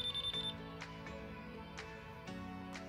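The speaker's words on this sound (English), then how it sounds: "The DMC-100 provides clear, audible beep for live test." A Fnirsi DMC-100 digital clamp meter in live-test mode sounds a rapid series of sharp electronic beeps at the start near a live circuit breaker, followed by quieter clicks and handling noise.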